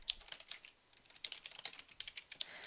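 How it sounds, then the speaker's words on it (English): Steady typing on a computer keyboard, a quick irregular run of light clicking keystrokes with short pauses, close and quiet, no voices. "I'm typing these instructions"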